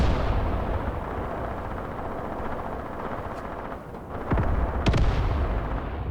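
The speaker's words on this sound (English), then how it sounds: "We can see in the background over there where the guns are, the mortar barrage is landing." A mortar barrage lands in the distance in the war game Graviteam Tactics Mius Front. Dull thuds and a couple of sharper blasts near the end come over a loud, continuous rumbling battlefield background, with no talking.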